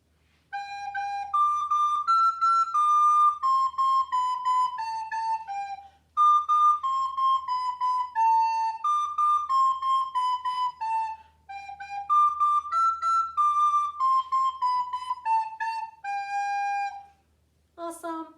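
A recorder plays Twinkle Twinkle Little Star in clear, breathy tones, phrase by phrase with short pauses, ending on a lower note.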